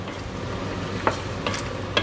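Onions frying in a pan over low heat for a chicken curry, a steady soft sizzle with a few sharp scrape-clicks of a stirring utensil against the pan at intervals, no talk.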